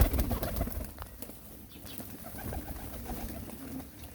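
A flock of pigeons cooing close by, with overlapping low throaty calls that continue throughout, along with a brief flutter of wings and no talk.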